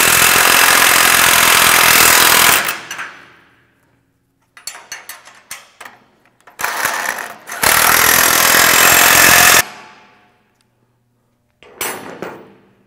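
Several loud bursts of a power impact tool tightening bolts on a side-by-side loading ramp, each run lasting a second or two and separated by short quiet gaps and small clanks.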